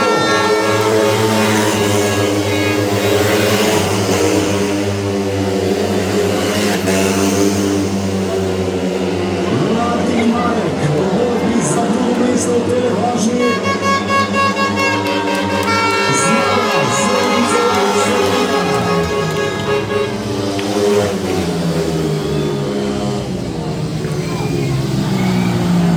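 Racing motorcycles roar continuously at a speedway meeting between AMD Krško and MC Lonigo, their engine pitch wavering as they circulate. A commentator talks over the din.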